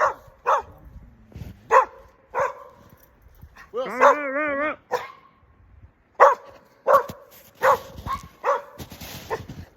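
An aggressive off-leash dog barks repeatedly on an outdoor trail, sharp separate woofs with one drawn-out whining yelp in the middle, fairly close and loud.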